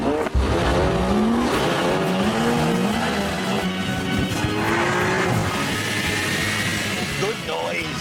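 Cars launch in a straight-line drag race, loud engines roaring and climbing through the gears under a dense, continuous blast of noise, with tire and road roar mixed in.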